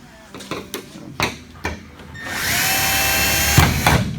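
A titanium tree bracket for a bicycle front end is drilled. Several short knocks and handling clatters lead into a sustained, close whining drill run, which ends in a brief burst and a clunk.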